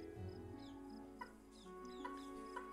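Pet chickens clucking softly nearby, a few short quiet clucks and calls over a faint background drone.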